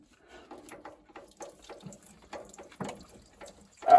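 Water trickles and splashes onto a floor from a disconnected pipe on a seized Grundfos Watermill shower pressure pump, faint irregular dribbles and drips close by, ending in a brief louder gush.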